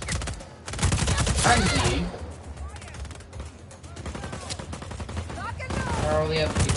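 Bursts of loud automatic gunfire in the open-world shooter Just Cause 4, rapid fusillades rattling in waves while someone talks over the shooting.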